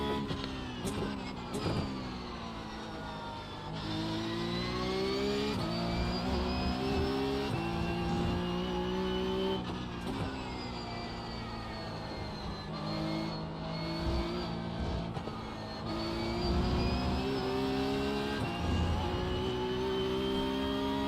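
The engine of a Porsche Cup race car in the iRacing racing simulator revs up and down through repeated gear changes, a loud, continuous, rising and falling engine whine with no talking.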